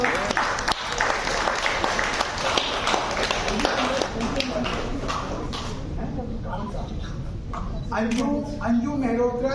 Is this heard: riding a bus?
no